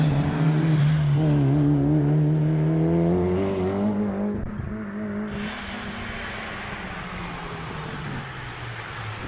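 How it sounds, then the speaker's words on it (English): Rally car engines rev and drone loudly on a rally stage at Mt Lofty, the pitch rising and falling as they accelerate, with a steady roar continuing after. "Sounds to me like engines are revving, and we are go once again."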